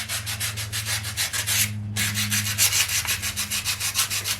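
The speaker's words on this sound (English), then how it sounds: "let's see if I need to get a higher grade sandpaper or if this one will work for what I want to accomplish" Fine-grit sandpaper rubbed back and forth on a concrete frog yard statue, giving rhythmic, close, loud scratchy strokes with one brief pause partway through, and no voices.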